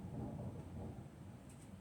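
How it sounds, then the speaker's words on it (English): Thunder rumbles low and steady during a storm outside a home kitchen, a soft continuous roll heard from a distance with faint rain, no talking. "my girls don't like the THUNDER."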